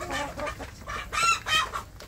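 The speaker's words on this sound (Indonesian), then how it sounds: "anak ayam kampung saya ini saya beri makan pur" Several free-range village chicks cluck and peep in quick, overlapping bursts nearby while being fed, a busy chatter of young birds with no talking.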